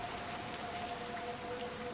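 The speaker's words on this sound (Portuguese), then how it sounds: "Como se eu já não estivesse na chuva, né?" Steady rain pours in Little Nightmares 2, a continuous even hiss of drops on surfaces with a faint thin tone running through it, no voices.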